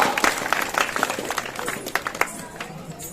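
Spectators at an outdoor Ram Leela performance in Kanwan clap, a ragged round of many hands with distinct sharp claps, moderately close, thinning out over about three seconds amid some crowd murmur.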